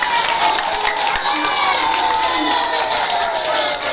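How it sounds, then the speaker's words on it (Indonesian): Schoolchildren at a Maulid Nabi celebration at an elementary school cheer and applaud loudly, a dense, continuous roar of young voices and clapping filling the hall. "Aplaus yang meriah anak-anak."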